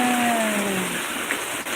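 Heavy rain pours down over a home garden with jasmine shrubs, a dense, steady hiss filling the whole stretch up close with no break, while a faint sliding tone drifts beneath it near the start.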